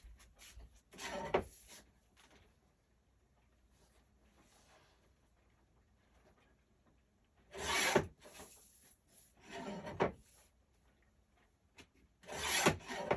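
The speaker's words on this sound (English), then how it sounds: "Let me go over to my big cutter." A large paper cutter slices through paper in a few loud, rasping strokes near 1, 8, 10 and 13 seconds, with quieter shuffling between; no talk.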